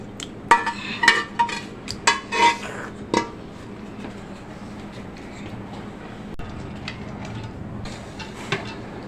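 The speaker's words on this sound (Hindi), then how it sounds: "चलिए सब हमने चावल डाल दिए इसमें।" Rice being added to a chicken dum biryani pot, with a cluster of close metallic clinks and scrapes of a utensil against the pot early on, then quieter intermittent clatter over a low steady background.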